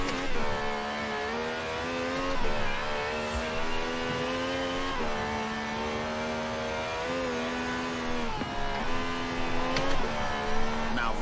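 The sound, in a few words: V12 car engine revving in Forza Horizon 4 video game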